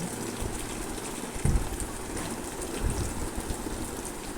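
Turmeric and salt frying with onions in a pan, a quiet, even crackling sizzle with a couple of soft stirring knocks, no voices.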